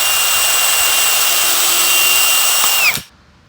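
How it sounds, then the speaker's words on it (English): A power drill drilling a pilot hole in a garage whines at high speed, close and loud, holding a steady pitch before winding down and stopping abruptly, leaving near silence. "we're just going to drill out a pilot hole."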